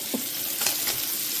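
Chicken and sausage stir-fry sizzles steadily in a pan, a close continuous hiss with a couple of brief stirring scrapes and no talking.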